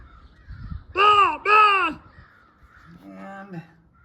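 Crows perched in trees give two loud, close, harsh caws in quick succession, followed by a softer, lower call from the flock after a pause.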